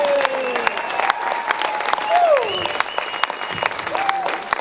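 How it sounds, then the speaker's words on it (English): Steady applause from an audience at a Palm Springs cultural center evening, honoring the Martinis and Moxie Very Small Orchestra, with a few whoops and voices rising above the clapping. "let's give a big round of applause for the Martinis and Moxie Very Small Orchestra"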